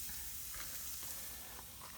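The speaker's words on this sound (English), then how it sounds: "Here, a little sizzle," Seasoned pork chops rubbed with salt, pepper, garlic powder, onion powder and chili powder sizzle in a pan, a steady faint hiss and crackle that continues without pause and with no talk.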